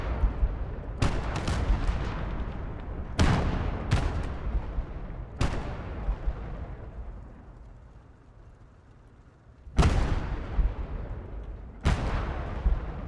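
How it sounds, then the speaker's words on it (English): An airstrike in the Gates of Hell: Ostfront Finland campaign, with loud, sharp explosive blasts at irregular intervals. Each impact is followed by a rumbling decay, and a quieter lull comes before the later strikes. No talking. "Just airstrike those guys."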